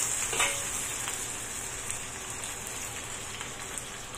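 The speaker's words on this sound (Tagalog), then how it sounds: "lutuin lang natin yung ginger hanggang sa maging brown siya" Ginger browning in a pan, a steady soft sizzle like light rain, fairly close and even throughout, with a few faint crackles and no talking.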